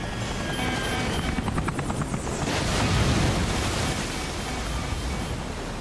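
A helicopter, one engine flaming out as it heads for ditching at sea, gives a loud continuous roar with rhythmic rotor thumping that swells midway, mixed with surging wash like surf.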